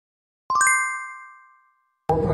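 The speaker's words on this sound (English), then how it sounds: "Ring that bell." A bell rung at a high school graduation gives a few quick overlapping bright ding strikes that ring on and fade slowly, followed by a burst of crowd noise.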